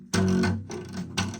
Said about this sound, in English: then your string should sound like this